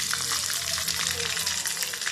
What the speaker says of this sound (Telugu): కాలిన తర్వాత కొంచెం కలుపుతున్నాం